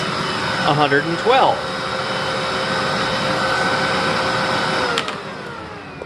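Bosch Formula Electro Duo vacuum cleaner with a 12 amp motor runs steadily during an airflow test, a loud constant whine throughout, with someone talking over it for the first couple of seconds.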